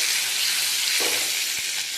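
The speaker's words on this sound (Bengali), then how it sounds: "পনিরটাকে একটু হালকা করে ভেজে নেব" Paneer pieces sizzle lightly in a hot pan, a steady broad hiss of frying oil running throughout, with a soft stirring clatter near the middle and end.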